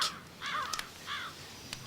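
Crows cawing from high overhead, a few harsh calls in quick succession followed by a single later caw, alone with no talk.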